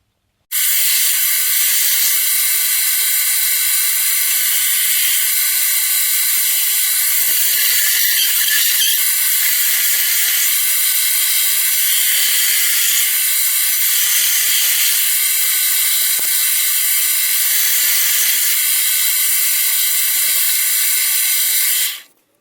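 Continuous loud, hissy abrasive sanding of PVC, steady and close, lasting about twenty seconds before cutting off.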